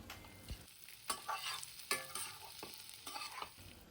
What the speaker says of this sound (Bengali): আস্তে আস্তে নাড়াচাড়া করতে করতে আলুগুলোকে খুব ভালো করে কষে নিচ্ছি